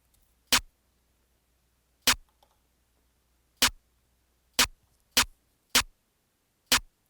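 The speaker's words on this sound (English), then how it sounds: "Next, I layered it with the snare 4 from OK's kit." Layered clap and snare drum samples from a beat-making kit, heard as seven sharp, dry hits spaced unevenly over several seconds against silence, each crisp and short.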